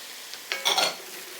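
Leeks, carrots and celery stirred in melted butter in a stew pot, a brief close scrape and soft clink of a utensil against the pan over a faint sizzle, lasting about half a second.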